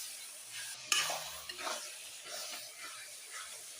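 Meat with onion, tomato and spices sizzles in a pan while being stirred, a soft frying hiss punctuated by a sharp clink of the spoon and scraping strokes.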